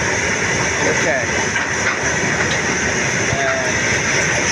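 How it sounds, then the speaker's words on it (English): An Indian Railways freight train with many wagons rolls past in a loud, steady broadband roar and hiss, with faint squeals over the continuous rumble. "This is a big train. There are many bogies in the train."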